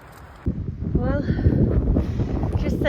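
Strong gale wind on a desert stretch of the Pacific Crest Trail buffets the microphone in a steady, loud roar, while a voice talks over it.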